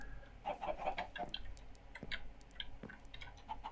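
Minecraft chickens clucking in short, scattered bursts at moderate distance, mixed with soft clicks and ticks over a low steady game hum.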